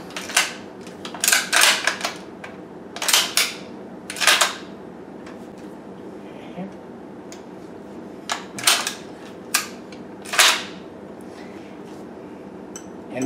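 A Winchester M1895 Lee Navy 6mm straight-pull rifle being cycled and dry fired, giving sharp metallic clacks and clicks in irregular bursts of several at a time, separated by short pauses, close and alone without talk.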